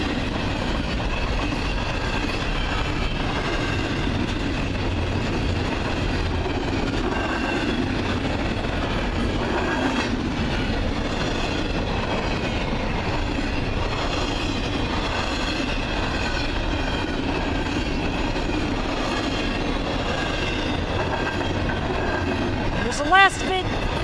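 CN freight train Q119 rolling past at Ladysmith, its last cars and rear DPU locomotive going by in a steady, continuous rumble of wheels and rail noise; a brief squeal near the end, with people talking faintly.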